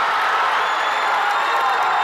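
A sizable Morenci crowd at a 2A East Regional Championship basketball game against Pima roars and cheers after a self-alley-oop dunk, a loud, sustained wall of cheering and shouting with scattered claps and whoops across the whole moment.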